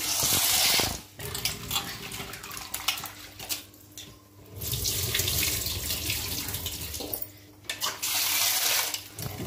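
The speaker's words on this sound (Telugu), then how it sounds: "ఈ జీడిని తీసుకొని ఈ జీడిని బాగా కడుక్కొని" Mango seeds for jeedi avakaya pickle are rinsed well under a running tap. Close water gushes and splashes in long stretches, with brief breaks and light clinks as the seeds are handled, and no talking.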